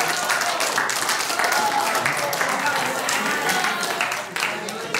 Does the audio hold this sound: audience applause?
yes